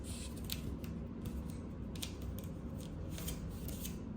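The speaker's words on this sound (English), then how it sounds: "you can just rearrange these plastic pieces" Plastic pieces from a sound-wave science kit click and scrape as they are rearranged by hand, a run of quick, close clicks spaced irregularly over a low steady background.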